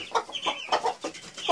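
Chickens in a farmyard coop cluck in quick, repeated bursts, close and fairly loud, several hens overlapping with no talk.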